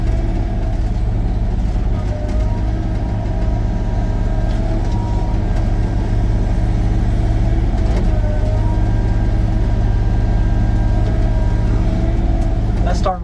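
A mini excavator grades and back-blades a gravel road, its engine droning loud and steady throughout with low mechanical rumble and faint scraping, while someone talks over it.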